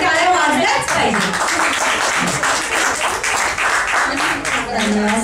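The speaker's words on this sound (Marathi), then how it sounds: "सुरुवातीला ते टाळ्या वाजल्याच पाहिजे." An audience claps at a state-level poetry gathering, the applause mixed with voices talking over it for the whole stretch.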